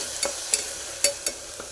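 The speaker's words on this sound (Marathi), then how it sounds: "छान तेल सुटेपर्यंत मसाला भाजून घ्यायचा आहे" Green masala being stirred and roasted in oil for mutton biryani, with a low sizzle underneath and five distinct scraping stirs of the spoon against the pan spread unevenly across the clip.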